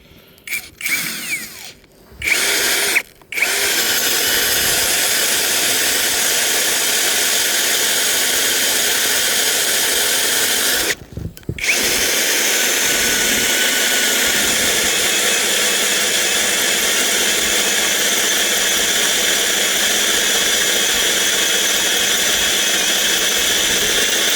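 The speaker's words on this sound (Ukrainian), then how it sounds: "значить щось там свердлиться, якщо стружка йде логічно" A drill bores a hole through a steel railway rail, giving a loud, steady mechanical whir and grinding that runs almost without break, cut off by a few brief pauses near the start and one short stop midway.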